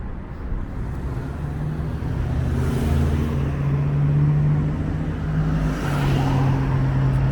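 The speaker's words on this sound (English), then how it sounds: "Let these cars go." Cars pass on a road while a rider waits on a motorized bike, engine hum and tyre noise swelling and fading as vehicles go by, fairly close and steady with no talk.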